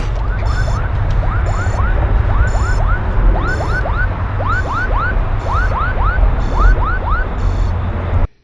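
A motorcycle crash-detection alert blares loudly and steadily, a rapid chirping, swooping electronic alarm repeating in fast cycles with rhythmic high beeps over a low engine or road rumble, cutting off abruptly at the end.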